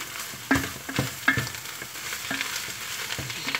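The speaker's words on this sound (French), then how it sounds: "Tournez bien pour bien mélanger les deux." Eru being stirred in a pot of seasoned meat and greens, giving soft scraping strokes and a few louder knocks of the utensil against the pot over a steady low frying sizzle.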